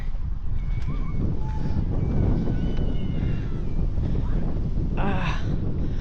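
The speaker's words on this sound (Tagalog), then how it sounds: "Sobrang lakas ng hangin." Strong, cold wind roars steadily into the microphone in New Zealand, a constant low buffeting rumble with faint distant voices of playing children and brief whistles underneath.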